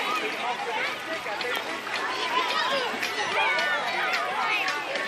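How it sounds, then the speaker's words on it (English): Lively outdoor chatter of many children at a state park beach on the Fourth of July, with shouts and laughter blending into a continuous busy hubbub at moderate distance. "I just love the sound of children"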